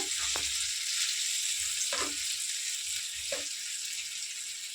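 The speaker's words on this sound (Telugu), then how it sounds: "సో దీన్ని మనం ఫ్లిప్ చేసుకున్నాం కాబట్టి ఇంకొక ఫైవ్ మినిట్స్ మనం ఫ్రై చేసుకుందాం పక్క కూడా" Potato slices for a pan roast frying in oil, a steady close hiss of sizzling with a few faint clinks of the pan, and no talking.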